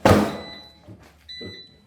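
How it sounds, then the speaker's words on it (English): An oven drawer in a home kitchen is shoved shut, giving a loud close thunk at the start, then a smaller knock and a second softer bump with a faint ringing tone. "You gotta shove the drawer right in."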